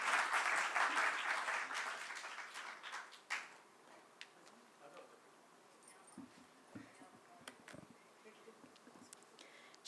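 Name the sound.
audience applause welcoming a poet on stage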